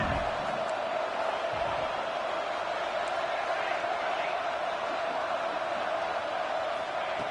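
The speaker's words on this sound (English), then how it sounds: "Crowd coming to life here, trying to help this defense down in the red zone." A stadium crowd at a football game roars steadily as the defense holds in the red zone, a dense, constant wash of cheering voices with no break, heard at a distance.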